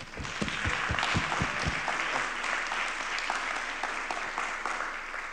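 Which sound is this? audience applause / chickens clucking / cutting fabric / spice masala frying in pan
audience applause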